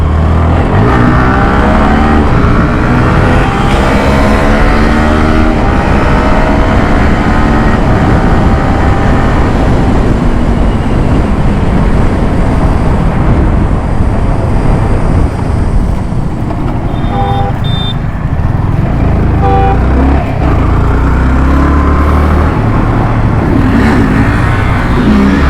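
KTM Duke 250 Gen 3 motorcycle in a street race, engine roaring steadily at high revs with heavy wind and road rush throughout, loud and close, with rising and falling pitch as it accelerates.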